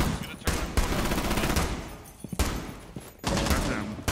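Gunfire from a tactical shooter game, loud and near, with dense overlapping bursts of shots and sharp cracks breaking up a continuous barrage.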